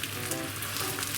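Tofu pouches stuffed with chicken and shiitake frying in a pan over medium-low heat, giving a steady close sizzle with no break and no talk.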